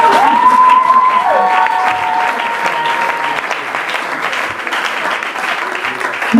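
A church or hall audience applauds and cheers for the mothers, with loud sustained clapping and whoops filling the room and a brief squeal of microphone feedback early on.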